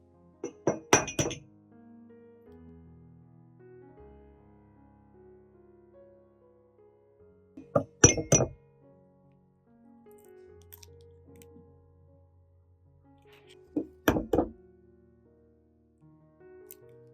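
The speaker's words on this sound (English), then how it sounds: "remove them and crack an egg into each bowl" Eggs cracked into hot bowls: three separate sharp clinks and cracks spaced several seconds apart, each a short cluster of taps, with quiet kitchen handling in between.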